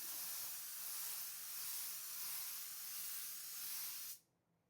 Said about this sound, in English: Imagine 30 desserts on this tray. You would just like spray it like in 2 seconds.